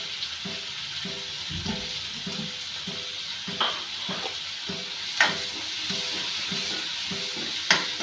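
Tomato and turmeric sizzling in a pan for upma, a constant soft frying hiss under rhythmic stirring scrapes and occasional sharp clinks of a spoon against the pan, close and fairly quiet.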